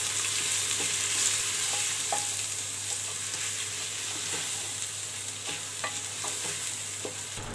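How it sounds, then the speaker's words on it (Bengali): Washed rice fries in oil inside a pressure cooker for khichuri, a low steady sizzle under rhythmic scraping stirs and light clinks of the spoon, close and quiet, no voices. "চালটাকে 2 মিনিট ভেজে নিব।"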